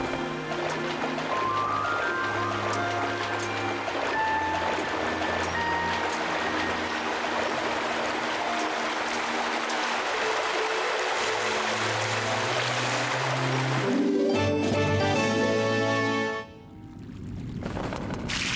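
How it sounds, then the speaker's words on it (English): A waterfall in the video game Zelda: Skyward Sword, a steady rushing water wash under soft sustained musical tones, continuous before cutting away near the end. "To get the sacred water, we simply need an empty bottle and grab some at the waterfall."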